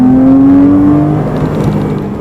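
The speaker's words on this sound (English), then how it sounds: "Then the engine pulls heartily and it revs freely, making it easy to do heel-toe downshifts." A Porsche Cayman R engine revs freely, its strong harmonic tone climbing and then settling into a steady, loud drone throughout, with no voices.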